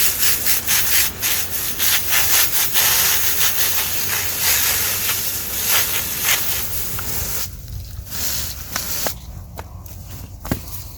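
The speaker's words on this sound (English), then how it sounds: "What we're doing is we're just gently massaging it while we rinse off the excess dirt." Hands gently rub dirt and potting mix from the roots of a dormant woody plant under running water, giving a loud, continuous rushing hiss with rubbing and scraping. The sound thins out after about seven seconds.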